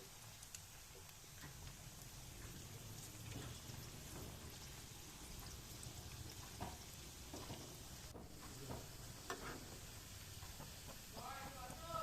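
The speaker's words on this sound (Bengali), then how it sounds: "এখানে বড়াগুলো উল্টে পাল্টে ভেজে নিচ্ছি।" Vegetable pakoras are turned and deep-fried in oil, giving a soft, continuous sizzle with occasional light scrapes and clinks of the utensil, faint and steady throughout.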